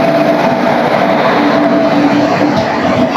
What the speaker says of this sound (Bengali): তার আগে দেখি কি ট্রেন ঢুকছে।